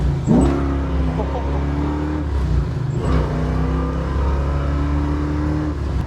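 A 1969 Camaro Z28 with a DZ302 V8 revs hard and roars, dips, then revs again, loud and close, sustaining a deep throaty drone.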